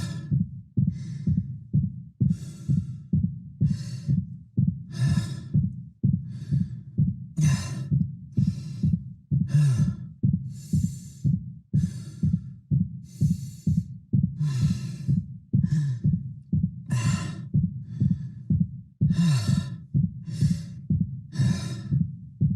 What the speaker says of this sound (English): you'll start to hear fatigued breaths, exerted breaths start to mix in with his regular base breathing rate.